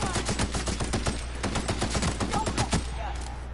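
Rapid gunfire from The Outer Worlds rattles in a steady automatic stream of sharp, evenly spaced shots, fairly close, thinning out near the end.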